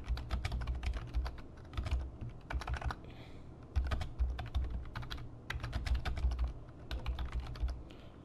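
Fingers type on a computer keyboard in quick clustered bursts of clicking keystrokes with short pauses between runs, close and fairly quiet, with no talking.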